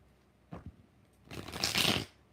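Tarot cards being shuffled by hand during a live tarot reading, a short riffle followed by a longer, brighter rustling shuffle, close and fairly quiet.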